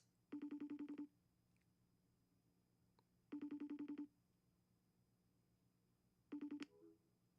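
A phone call rings out on the line: three evenly spaced ringback tones, each under a second long and about three seconds apart. They sound faint and thin, like a phone earpiece, with no talking.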